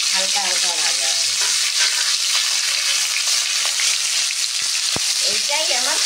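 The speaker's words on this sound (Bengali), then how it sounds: "এবার এই আদা বাটাটা খুব একটা ভাজা হবে না, হালকা হালকা ভাজা হবে।" Ginger paste frying lightly in hot oil in a pan while being stirred, a steady close sizzle with scraping stir sounds and a few sharp clicks of the utensil.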